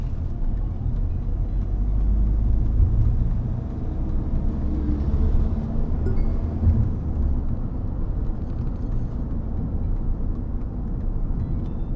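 A Mahindra XUV700 cruising in fourth gear at about 37 km/h gives a steady, low engine and road rumble with a constant drone and no talk.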